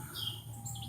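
Morning birds including a red bird chirp outdoors, faint high tweets and whistles over a steady low background hum, brief and without talk.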